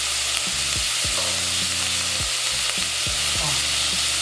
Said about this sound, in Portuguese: deixa eu dar uma mexidinha lá na cebola, Bira.